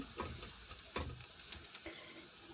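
Onion frying in a pan, a soft, quiet sizzle broken by light stirring scrapes and small spatter pops, close by.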